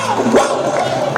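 Guests at a Huancayo wedding cheer loudly for the godparents, a brief crowd shout of voices rising together over a band's sustained background tones.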